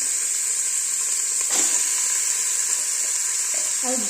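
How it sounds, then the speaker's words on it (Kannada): Chicken pieces with oil and ginger garlic paste sizzling in a pressure cooker, a steady close frying hiss with a brief stir-like clatter midway and a few faint clinks near the end, no talking. "ಗುಂಡು ಇಟ್ಟ ಕುಕ್ಕರ್ನ ಸ್ವಲ್ಪ ಎಣ್ಣೆ ಮತ್ತು ಜಿಂಜರ್ ಗಾರ್ಲಿಕ್ ಪೇಸ್ಟ್ ಹಾಕೊತಾ ಇದ್ದೀನಿ"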